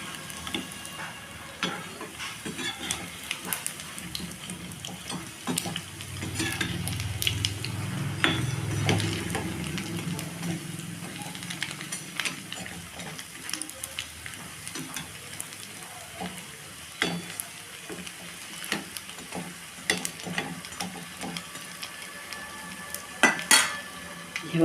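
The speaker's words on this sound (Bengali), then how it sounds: "পকোড়াগুলোকে উল্টিয়ে দেবো।" Pakoras sizzle and crackle steadily in hot frying oil, with clinks and scrapes of a utensil flipping them in the pan, the sizzle swelling briefly midway.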